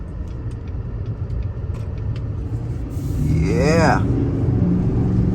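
A 2023 Chevrolet Silverado 3500 High Country dually pickup with a 6.6-liter engine rumbles on the road and then accelerates, its engine note rising in a brief sweep over a steady cabin drone, with a short spoken word early on.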